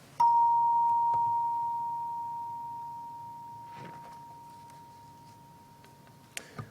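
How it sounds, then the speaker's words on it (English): A single bell stroke opens a Sunday worship service, its clear, steady tone ringing on and slowly fading over several seconds, with a few faint clicks near the end. "So I will ring the bell, and we will worship together."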